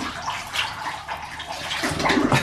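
Water trickles and splashes into a bath for a small dog, a steady close wet patter with bubbling bursts and no voices.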